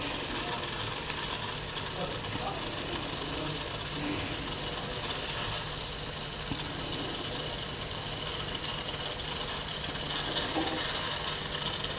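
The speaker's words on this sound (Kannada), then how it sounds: "ಈ ಥರ ಚೆನ್ನಾಗಿ ಫ್ರೈ ಮಾಡ್ಕೋಬೇಕು" Mirchi bajji, battered chili fritters, frying in hot oil, giving a steady close sizzling hiss with faint bubbling that runs throughout, and a few small clinks and stirring touches near the end.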